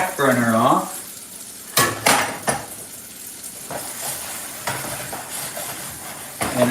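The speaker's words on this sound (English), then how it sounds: "And now we stir the tuna and all of that together." Tuna is stirred together in a cooking pan, with irregular metallic scrapes and clanks of utensil against the pan over a quiet sizzling background.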